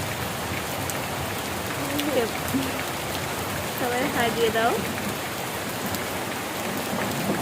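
Rain falling steadily outdoors during a storm, a dense even hiss throughout, with a voice talking briefly over it.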